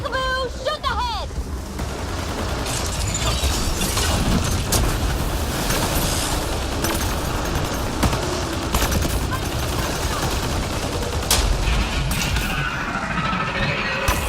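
Rapid rifle gunfire in the sci-fi shooter Mass Effect Andromeda, a dense run of cracking shots and impacts filling the whole stretch, loud and continuous with a voice speaking over the opening moments.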